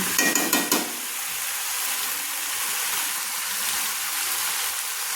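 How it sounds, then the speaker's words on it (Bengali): Mixed vegetables being sautéed with mustard paste in a pan, a dense continuous sizzle that follows a few quick clanks and stirring knocks at the start. "আমি 1 মিনিট মতো কষিয়ে নিচ্ছি।"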